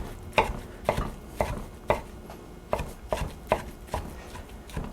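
Squeezed-out spinach being chopped with a knife on a board for stuffed pasta shells, a steady rhythm of sharp, close knocks about twice a second.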